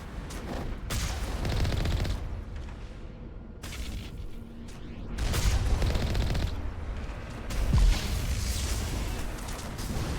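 Gunfire in the video game Mass Effect: dense bursts of rapid shots and booming impacts rolling through a busy firefight, loud and continuous with brief lulls between volleys, no voices.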